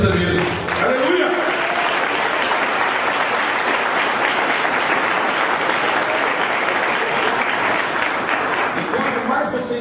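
A church congregation claps and cheers in a loud, sustained burst of applause that swells quickly and holds evenly, with faint voices mixed into the crowd noise.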